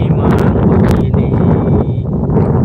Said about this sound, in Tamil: நல்ல காற்று அருமையான காற்று அருமையான காற்று ஃபேன் காற்றும் கிடையாது ஏசி காற்றும் கிடையாது இது இயற்கையான காற்று